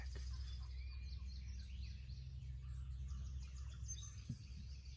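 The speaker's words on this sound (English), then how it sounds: "Bunch of birds across the creek." Faint, distant calls and chirps of birds, including wild turkey hens and gobblers, carry across a creek over a low steady rumble of moving water and background hiss.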